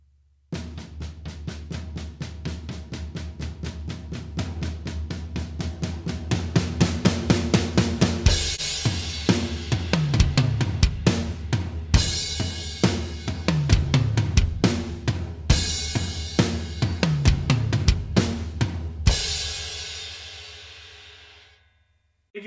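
Full drum kit playing the bridge beat of the worship song God's Not Dead, a steady driving groove with dense hi-hat or cymbal hits over kick and snare, loud and close, alone for about nineteen seconds before a brief ring-out.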